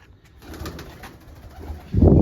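Pigeons coo softly at close range, a few low murmuring calls, ending with a louder burst of sound right at the finish.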